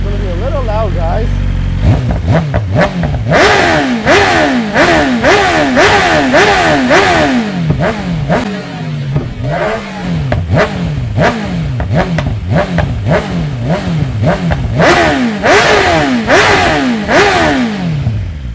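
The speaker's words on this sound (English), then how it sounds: "That's how the Akrapovic header and mid-pipe sound on the sport exhaust on the BMW." A BMW S1000RR superbike with an Akrapovic header and mid-pipe sport exhaust revs repeatedly in sharp, loud bursts, each climbing and dropping back, with a raspy exhaust tone close to the listener.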